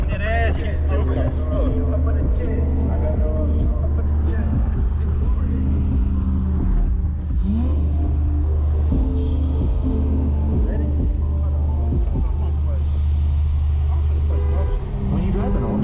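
A 2016 Camaro engine with an X-pipe exhaust, a deep, continuous rumble heard throughout, close and loud, with people talking over it.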